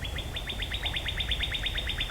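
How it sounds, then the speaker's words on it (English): Birds sing in the trees outdoors, one bird repeating a steady run of bright, evenly spaced chirps over a soft background hum. "Listen to the beautiful birds in the trees."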